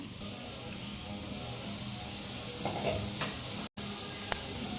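Onions frying for a prawn curry with curry leaves, a steady soft sizzle and hiss from the pan, faint and even, with a brief gap and a few light clicks near the end.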